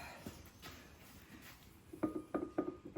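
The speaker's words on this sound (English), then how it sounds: "Is that the flywheel bolt you're undoing?" A wrench works a flywheel bolt during removal of a Land Rover 110 engine, producing faint scattered clicks that turn into a quick series of louder metallic ratcheting ticks near the end.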